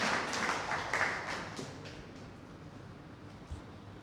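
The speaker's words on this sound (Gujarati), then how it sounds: "આપણે એમને તાળીઓના ગડગડાટથી વધાવી લઈએ" Audience applause welcoming an agriculture university student poet to recite at a Gujarati poetry festival, a broad patter of clapping that starts fairly strong and slowly fades over a few seconds.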